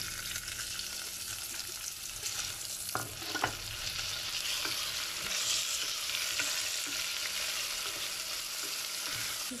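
Tomato and onions fry in a pan with a steady close sizzle, and a few stirring clatters sound partway through.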